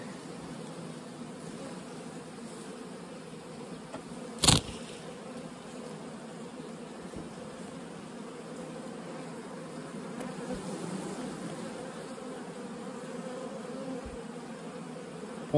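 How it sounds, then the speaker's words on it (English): Honey bees buzz in a continuous, low drone around an open hive colony in a late-season bee yard, steady and close, with one brief sharp knock partway through. "Lots of bees."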